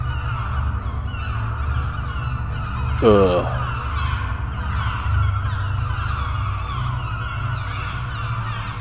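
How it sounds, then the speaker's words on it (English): Birds circling over a beach in a video game, with a single honking goose-like call rising above a steady bed of ambient game noise and low rumble. "Many birds circle in the sky overhead."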